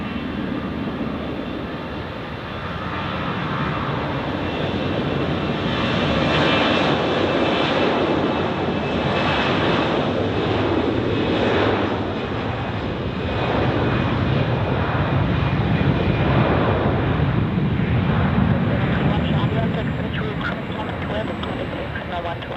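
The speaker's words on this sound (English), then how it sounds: "Now we have the next departure on runway 28. Edelweiss A320," Edelweiss Airbus A320 taking off from runway 28 at Zurich Airport, a loud sustained jet engine roar that swells and holds for over twenty seconds, with a voice talking over part of it.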